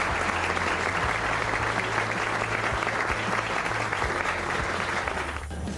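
An auditorium audience gives a sustained, dense ovation at a tribute ceremony honoring Darío Jaramillo Agudelo, steady loud clapping throughout.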